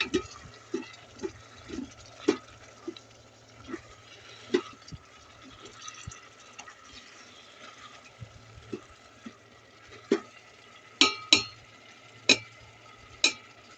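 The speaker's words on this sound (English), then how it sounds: "So it'll take about 10 minutes to saute that" Ground sausage meat sautés in an Instant Pot Mini 3-quart pressure cooker, a soft steady sizzle punctuated by irregular scraping and clacking taps of stirring, quiet and close with no talk.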